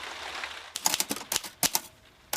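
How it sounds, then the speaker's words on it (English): A typewriter tapping out a novel, the keystrokes coming in quick irregular bursts of sharp clacks after a brief quiet start, close and fairly loud. "I am just on the grisly job of typing out my novel."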